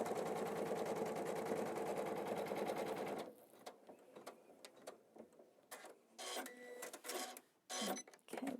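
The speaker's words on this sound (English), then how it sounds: "step 17 in your book is going to stitch the placement line for the border around the bottom" Embroidery machine stitching a placement line for a border, a fast, even mechanical chatter of needle strokes for about three seconds, then stopping, followed by quieter scattered handling and rustling noises.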